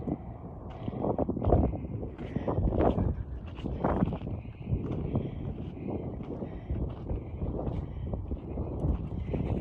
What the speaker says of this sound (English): And the wind feels amazing here.